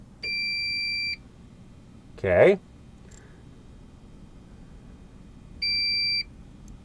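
An APC UPS 500 backup unit running its self-test gives a steady electronic beep that lasts about a second, goes quiet, then sounds again near the end. A brief click and a short spoken word come in between.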